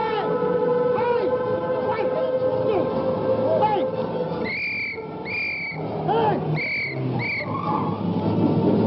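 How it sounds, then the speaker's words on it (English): A car speeds away in a chase scene from a 1939 Nancy Drew mystery film, its engine roaring and revving with squealing, whistling tones in a dense, continuous mix. "Getting away in my daughter's car!"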